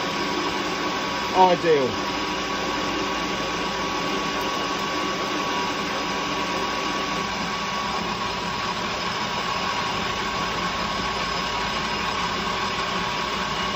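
A metal lathe cutting steel at full load while turning a hexagon-drive chuck key for a 4-jaw chuck, giving a steady, even motor hum and whine throughout, with one brief spoken word near the start.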